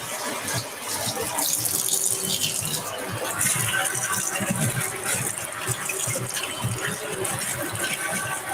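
Cold tap water runs steadily into a kitchen sink while bok choy is rinsed under it, a continuous close splashing hiss with faint clatters and rattles throughout.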